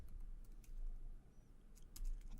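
Quick, faint clicks of a computer keyboard as someone types, a soft, uneven tapping heard close up with no talk.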